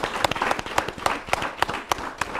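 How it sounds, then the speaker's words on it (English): Studio audience applauding at a Nigerian Independence Day talk show, a steady wash of many hands clapping with sharp louder claps punctuating it, close and continuous, with no speech. "A round of applause for yourselves."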